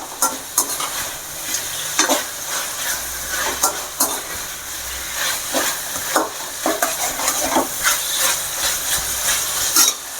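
Ding Dong chicken stir-fried in a hot pan, a steady loud sizzle broken by frequent sharp clacks of the spatula scraping and tossing the pieces throughout.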